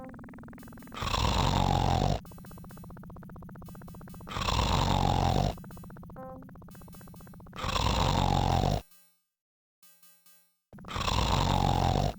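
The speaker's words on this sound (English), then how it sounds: "He snores." A man snoring in the adventure game The Dagger of Amon Ra, loud rasping snores repeating in a slow regular cycle with quiet breaths between, the last cut by a brief silence.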